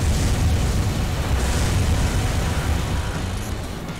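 Missile explosions in Armored Core 3 mech combat: a continuous roar of blasts and rumbling detonations, loud and dense at first, then slowly easing off.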